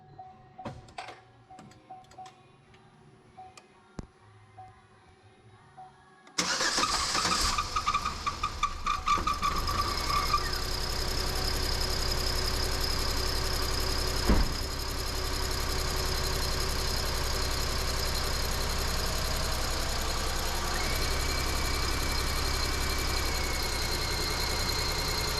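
A Chevy Equinox with blown head gaskets cranks over and catches after a quiet stretch, then settles into a steady, loud idle with a ticking rhythm running through it.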